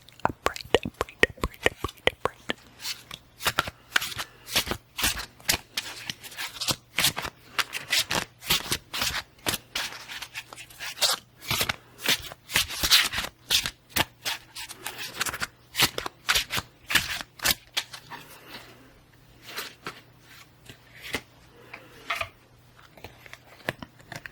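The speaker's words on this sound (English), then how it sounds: "we're going to start with the Marigold Tarot deck and pull a 3-card reading" A Marigold Tarot card deck being shuffled over and over, a dense run of crisp riffling snaps and soft flutters close to the microphone, with no talking.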